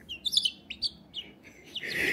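A small chick chirping indoors at home: a quick series of short, high, thin peeps comes in scattered bursts, fairly close and soft, with no talk over them.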